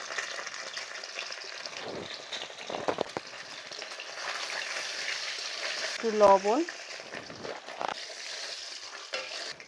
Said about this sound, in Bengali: কড়াইতে তেল দিয়েছি, ডিমগুলো আমি ভেজে নেব।